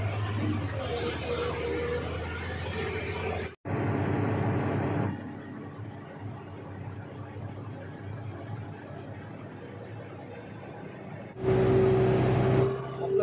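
A Holpak mining dump truck climbs uphill out of a limestone and dolomite mine, its engine droning steadily inside the cab throughout, with a sharp cut and a tonal whine near the end.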